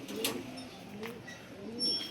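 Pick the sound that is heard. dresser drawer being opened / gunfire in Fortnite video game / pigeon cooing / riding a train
pigeon cooing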